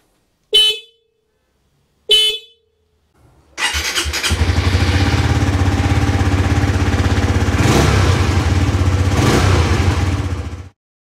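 A motorbike engine in a garage cranks and catches after two short sharp beeps, then runs close and loud at a steady throbbing idle with a couple of brief rev blips before cutting off.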